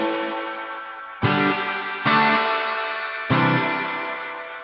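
Bass guitar run through a Boss GT-10B multi-effects unit with reverb in the series chain after a parallel loop: four sustained plucked notes or chords, each struck and left to ring and decay in a washy tail, with no voices.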